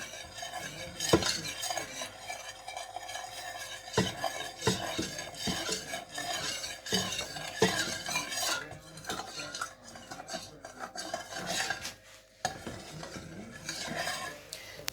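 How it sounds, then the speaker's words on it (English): A spoon stirs cheese sauce in a pot, making soft continuous scraping and swishing with occasional light clinks against the metal, close and fairly quiet throughout. "The other thing is you just need to keep stirring it and stirring it and stirring it."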